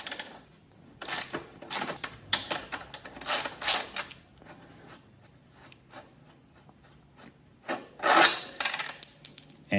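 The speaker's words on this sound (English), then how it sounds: "And your nut drops right out." A nut drops out of the rear shock mount of a Triumph Thruxton R during a rear spring swap, among a series of sharp metallic clicks and clinks, with a louder cluster of metal clatter near the end.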